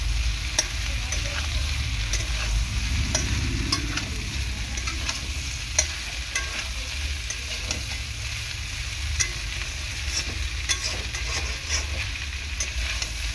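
Taro stolons (kochur loti) sautéing in a little oil, heard as a constant loud sizzle with stirring scrapes and light clicks scattered throughout, close up, plus a low steady hum underneath and no talking.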